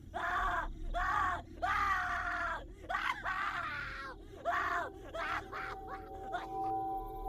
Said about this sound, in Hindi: तो वो अपने होश में आया और जोर से चीखा।